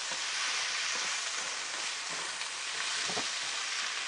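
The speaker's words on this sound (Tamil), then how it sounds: "இப்போ தக்காளியும் போட்டுடலாம், அப்படியே மிளகாவும் போட்டுறேன் நான்." Tomatoes and chillies fry in a hot pan for an Indian-style spicy vegetarian pasta, giving a steady, dense sizzle that runs unbroken throughout, with a few soft stirring bumps and no talking.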